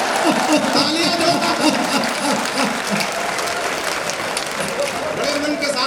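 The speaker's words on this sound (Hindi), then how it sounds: "तालियां दो।" Audience clapping at a Hindi comedy poetry show, a dense, steady rattle of many hands filling the room for about six seconds, loud and close, with voices mixed in underneath.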